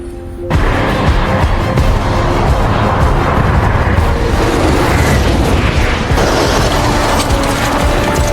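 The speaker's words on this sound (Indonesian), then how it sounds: "Dan akhirnya satelit pun itu meledak di atas." A satellite exploding in a film: a sudden loud blast erupts into a sustained, roaring rumble with grinding metallic debris, staying dense and powerful throughout before a second surge near the end.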